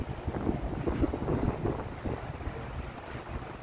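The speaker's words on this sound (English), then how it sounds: "Can you hear the wind and see it?" Strong wind blowing across an outdoor container garden in upstate New York, a low rumbling buffeting roar on the microphone that holds steady and fades slightly, with no talking.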